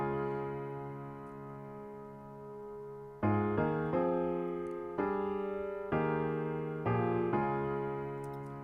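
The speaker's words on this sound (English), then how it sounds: "So then we get this really unique chord progression." Sustained piano chords move through a progression over a held pedal tone, with clear stepwise chord changes after a quieter opening chord, played alone and fairly loud.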